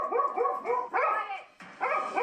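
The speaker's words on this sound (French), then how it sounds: "Il aboie sur tout le monde." A nervous dog barks repeatedly at close range, a quick series of sharp, whining barks in uneven bursts with brief pauses between them.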